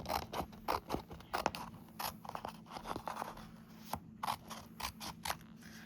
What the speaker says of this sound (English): I think it might be best if I just cut this out instead of having to peel all of these off of here.